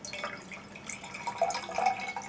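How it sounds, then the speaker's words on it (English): Water is poured into a container, a light trickling and dripping that swells a little toward the end, with no talk. "Let's fill the water container."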